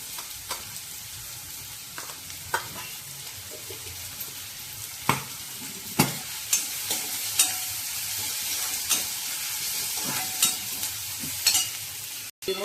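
Onion sautéing in a pan for a leafy-vegetable dish, a steady close sizzle with sharp stirring clinks and scrapes every second or so, no voices.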